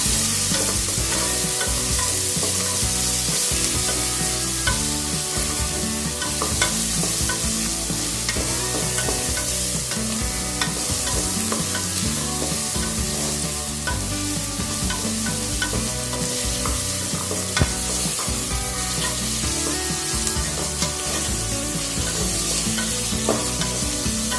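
Onions sautéing in a pan for paneer biryani, a dense, steady sizzle with frequent stirring scrapes that runs loud and close for the whole stretch, with no talking.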